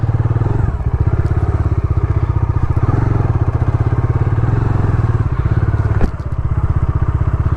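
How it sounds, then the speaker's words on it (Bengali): A KTM Duke 390 or Bajaj Dominar 400 motorcycle runs close by while being ridden, its single-cylinder engine giving a loud, steady rapid thumping throb with small shifts in pace and a brief clunk partway through. "গাড়ি এখন একটু চালাবো, চালিয়ে তোমাদেরকে বোঝানোর চেষ্টা করবো"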